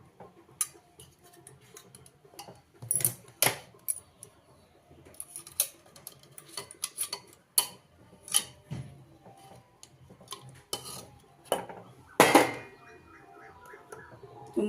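A fork pokes and taps at boiled potatoes inside a pressure cooker, with a string of faint, sharp metallic clicks and scrapes at an irregular pace in a quiet kitchen.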